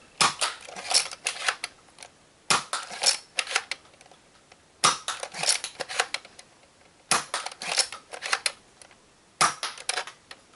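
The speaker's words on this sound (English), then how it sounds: "The darts are hitting the wall at some force." An Elite Spectre foam dart blaster fires darts that hit a wall. The bursts come in four spaced clusters of sharp, rattling clacks and thuds, with near silence between volleys.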